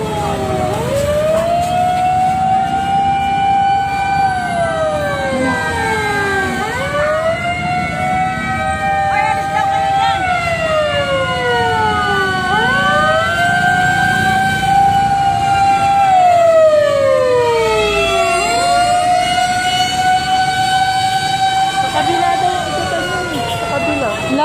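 Fire truck sirens wail loudly and continuously at a large fire on Visayas Avenue, Quezon City, overlapping sweeps rising and falling over and over, with a low rumble of traffic underneath.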